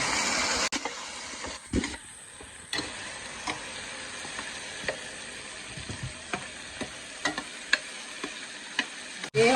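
Tomatoes, carrots and other vegetables fry in a tadka for homemade biryani, a steady low sizzle broken by frequent small clicks and scrapes of stirring against the pan, close and moderately quiet.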